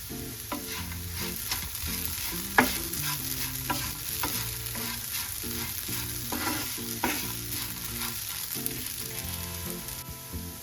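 Aloo fry with kasuri methi sizzling in a pan, a constant close hiss broken by repeated scrapes and taps of the spatula as the potatoes are stirred, with soft music underneath and no talking.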